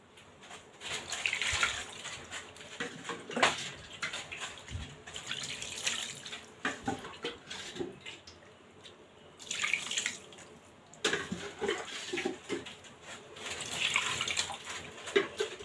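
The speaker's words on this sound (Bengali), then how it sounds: "এখন আমি মাংসটা যেন সিদ্ধ হয় এরকম পরিমাণ মতো পানি দিয়ে দেব" Water runs and splashes as it is poured over beef in a pot for boiling, in several gushing bursts separated by short pauses.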